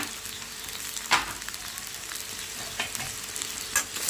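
Veg noodles fry in a pan on high flame with a steady sizzle, broken by a few scraping strokes as they are stirred and tossed with salt.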